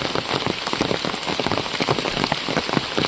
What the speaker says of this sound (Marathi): आता सकाळपासूनच खूप जाम पाऊस पडतो आहे